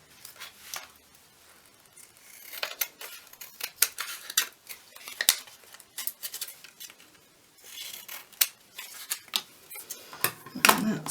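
Scissors cutting paper journal cards square, a run of crisp snips and paper rustles close by, irregular in rhythm and rising and falling in loudness.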